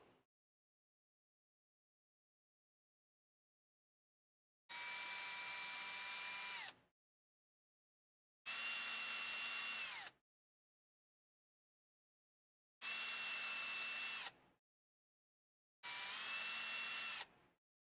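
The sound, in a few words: drilling through parts of a Unimog model kit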